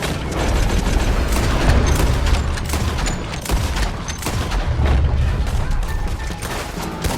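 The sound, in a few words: gunfire in the video game Red Dead Redemption 2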